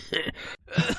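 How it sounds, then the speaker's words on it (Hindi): A boy coughs twice in quick succession, close and fairly loud, with a short gap between the two rough bursts. "तुम्हें तो बहुत खांसी हो रही है बेटा"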